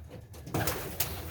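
A Dewlop homing pigeon, a well-molted, good-looking bird used in military training baskets, gives a brief soft coo or two nearby, a short quiet burst after a moment of low background.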